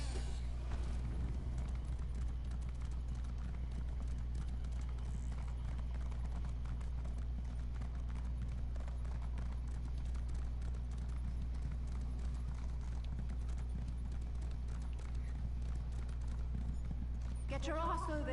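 A summoned Indrik mount gallops in Elder Scrolls Online, its hoofbeats a steady, continuous clip-clop over a low game soundscape for the whole stretch.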